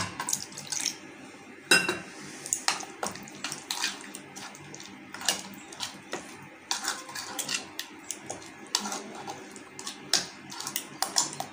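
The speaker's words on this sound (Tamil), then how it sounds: "கொஞ்சமாக தண்ணி சேர்த்து கலந்துக்கலாங்க." Water poured into biryani masala with yogurt and stirred in a bowl, heard as close, irregular wet scraping and clinking of a spoon against the vessel, with no talking.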